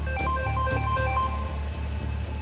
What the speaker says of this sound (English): I was just ringing to ruin your Friday because Rennie Young just rang me